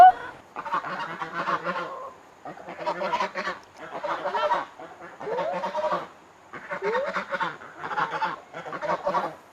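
Hens at feeding time: a near, steady series of clucking and squawking calls in repeated bursts separated by short pauses, with no talking.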